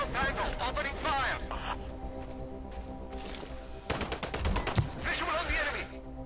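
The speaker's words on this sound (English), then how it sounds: "Opening fire." Gunfire in the video game Sniper Ghost Warrior 3 rattles out in rapid automatic bursts and sharp cracks, fairly close, with voices speaking intermittently over the shooting.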